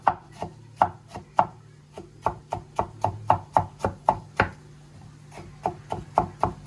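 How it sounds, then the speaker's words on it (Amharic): A knife chops tomatoes on a board in quick, even strokes, about twenty sharp close-up knocks in a steady rhythm with a brief pause midway. No one speaks. "ሽንኩርቴ እስኪቁላላ ድረስ ቲማቲሜን እከትፋለሁ"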